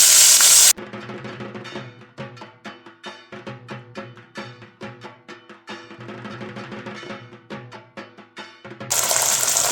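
Ginger paste sizzles and crackles in hot oil with browned cumin seeds while cooking khichuri, a dense run of close, steady popping spatters that swell and ease, with a louder hiss at the start and end.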